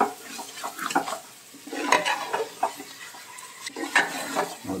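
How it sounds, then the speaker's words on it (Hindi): Mutton pieces are stirred into a spiced masala in a pot, producing close, uneven scraping and wet clattering strokes that rise and fall in bursts over a few seconds. "मटन को भी अच्छी तरीके से हम इसमें मिला लेंगे बिल्कुल मसाले के अंदर"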